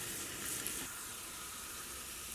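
Sliced onions sizzle in hot oil as they crisp for the tempering of a Kerala-style ladies finger curry, a steady, close hiss of frying that holds even throughout.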